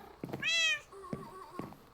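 A cat in the Minecraft video game gives one clear, close meow, followed by a few soft thumps and quieter game sounds.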